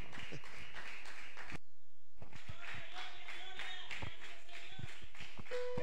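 A church congregation claps for Christ at a worship service, a steady run of hand claps that stops briefly for a near-silent gap and then picks up again, loud and close.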